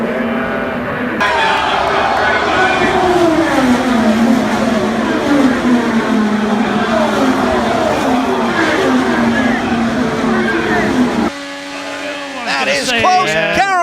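Race cars roar at high speed during an auto race, a loud continuous engine whine sweeping in pitch as they pass, then a sudden cut and a burst of harsh noise as a car crashes, with commentators talking over it.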